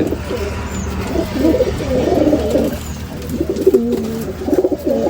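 Pigeons coo inside a pigeon coop, close and fairly loud, in repeated throaty rolling phrases that come in uneven bursts, with a faint chirp now and then.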